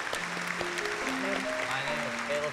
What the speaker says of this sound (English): Can we all get some applause for